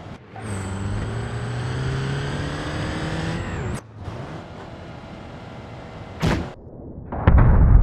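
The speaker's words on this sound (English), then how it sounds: "Will the cannon car destroy the double decker car?" Toy-style cannon car clashing with a double decker car: a sustained engine whine with rising tones, a sharp crack, a second burst, then a loud rumbling impact at the end, no talk.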